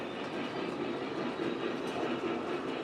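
A model Class A steam locomotive runs along its track, giving a steady, close rumble and hiss with a faint rhythmic chuff and rail clatter throughout.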